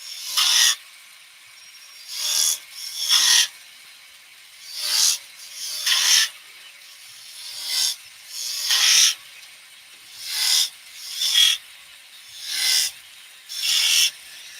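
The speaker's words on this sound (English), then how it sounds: "to mark out with the skew tool, just with some V-cuts" A skew chisel cuts V-cuts into wood spinning on a lathe, sounding as a series of about a dozen short, close, hissing scrapes in an irregular rhythm, each separated by brief quiet.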